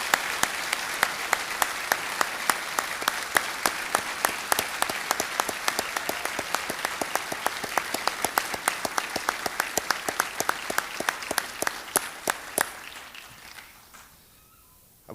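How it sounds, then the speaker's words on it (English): Large ceremony audience applauding employees and sailors of the year at a shipyard awards event, dense sustained clapping with sharp individual claps standing out, then tapering off quickly near the end into near silence. "let's give our employees and sailors of the year for 2023 one final deserving round of applause"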